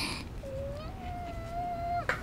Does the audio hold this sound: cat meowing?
yes